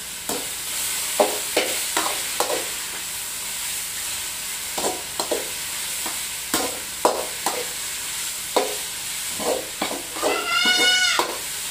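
A spoon scrapes and stirs brinjal dal curry with oil in a pan, producing irregular sharp scraping knocks over a faint steady sizzle, close by and without speech.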